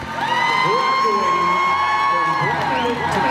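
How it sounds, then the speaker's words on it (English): A crowd cheers, whoops and claps as a father back from Navy service overseas hugs his son on Father's Day, with high excited shouts held over a constant roar. "Father and son hugging, the crowd cheering."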